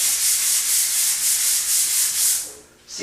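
Hand sanding of a surface: steady, close rasping strokes in a rhythmic back-and-forth pulse, broadband and loud, easing off briefly near the end before resuming.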